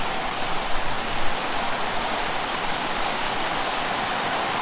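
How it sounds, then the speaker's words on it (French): A tropical rainstorm lashes down outdoors on Koh Tao, Thailand, a steady, dense roar of heavy rain that fills the air without pause, close and loud, with no voices over it. "c'est la tempête dehors"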